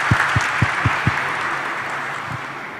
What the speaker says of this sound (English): Just a round of applause for him, please.